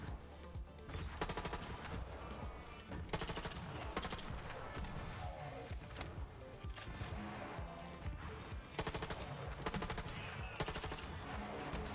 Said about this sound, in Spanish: ¿Quién, ¿quién está disparando por este lado?